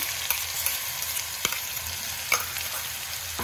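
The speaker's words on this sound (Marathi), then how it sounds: "आणि ते चांगलं परतून घ्यायचं आहे आपल्याला। अशा प्रकारे आपण परतून घेत आहोत।" Cumin, chopped green chilli and garlic sautéing in a pan for okra bhaji fill the clip with a continuous close sizzle, broken by a few sharp scrapes of a spoon.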